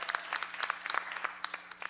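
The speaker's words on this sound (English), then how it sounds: "Encino Little League All-Stars. Give them a round of applause." Scattered, crisp clapping from a modest audience at a city Public Works and Gang Reduction Committee meeting, greeting the Encino Little League All-Stars, with individual claps distinct and fairly close.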